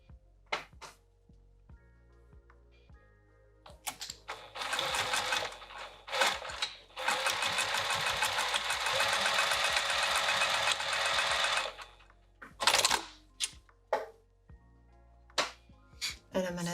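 A sewing machine stitches piping onto a bag in bursts, with several short runs, then one long steady whirring stretch, then more brief bursts separated by clicks and handling sounds, close and clear.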